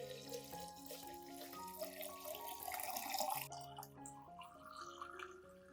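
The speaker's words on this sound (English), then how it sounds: "Add 1 liter of clean water to dilute the solution." Clean water pours in a soft, steady trickle into a nutrient solution for orchids, faint and close, with gentle music playing underneath.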